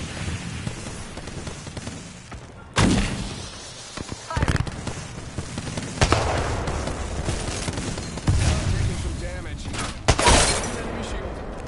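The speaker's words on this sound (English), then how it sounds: "Look out, grenade." Grenade blasts and gunfire in the game Apex Legends erupt in several loud, rumbling bursts between quieter stretches, with voices faintly present in the mix.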